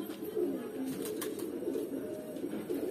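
An Almond breed pigeon coos steadily at close range, low soft repeated cooing that runs continuously with no talking.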